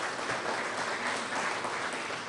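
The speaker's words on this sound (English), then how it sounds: "Yeah, you can clap about that." Steady applause from an audience at a Purdue Fort Wayne Horizon League announcement, a dense even wash of many hands clapping alone for the whole stretch, with no voices over it.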